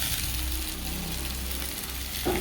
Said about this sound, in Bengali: আদা রসুন পেস্ট দিয়ে একটু কষিয়ে নিয়ে দিয়ে দিয়েছি নুন হলুদ লঙ্কা গুঁড়ো আর জিরে গুঁড়ো